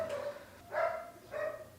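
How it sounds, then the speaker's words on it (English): A dog barks a few times in the distance, faint muffled yaps spaced about half a second apart, with no talking. "There's a dog barking."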